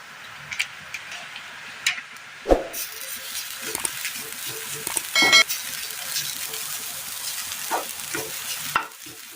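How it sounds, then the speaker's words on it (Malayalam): Grated coconut with a little cumin roasts in a hot pan, giving a steady dry sizzle broken by scraping stirs and several sharp clinks of a spoon against the metal pan. "അടുപ്പത്തൊരു പാൻ വെച്ച് കൊടുത്ത് ഇതിലേക്ക് നമുക്ക് ചൂടായി വരുമ്പോൾ തേങ്ങ ഇട്ട് കൊടുക്കാം."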